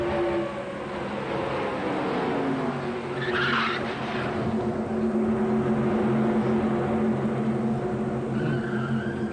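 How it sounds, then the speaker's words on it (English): Loud race-car noise from NASCAR stock cars crashing and tumbling at Talladega, a steady roar of engines and grinding skids that swells and holds without a break, with a brief higher screech of scraping or tire squeal midway. "And tumbling goes Randy LaJoie over the hood of the 92 Larry Pearson"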